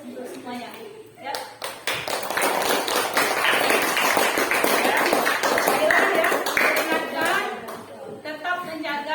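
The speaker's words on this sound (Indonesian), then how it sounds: "Mari kita berikan aplaus untuk semuanya, ya." Classroom students break into sustained applause after group presentations, a dense wash of hand clapping that swells and holds, with voices mixed in.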